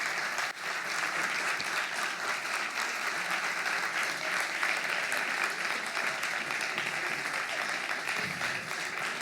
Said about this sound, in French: on peut les applaudir tous